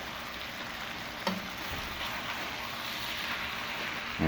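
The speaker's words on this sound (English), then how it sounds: "and now we'll just stir that in" Bacon and cabbage fry in a pan over medium-high heat, giving a steady, fairly quiet sizzle, with one brief clatter as they are stirred.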